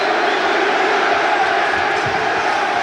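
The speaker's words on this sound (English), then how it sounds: "The crowd getting behind the champion now" A boxing crowd roars continuously behind the champion in a super middleweight title fight, a dense, loud wash of cheering and shouting with no clear pauses.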